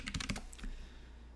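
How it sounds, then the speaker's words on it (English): Rapid keystrokes on a computer keyboard, a quick burst of clicks in the first half second followed by a few scattered taps, close and fairly quiet. "So that you can all read what I'm typing."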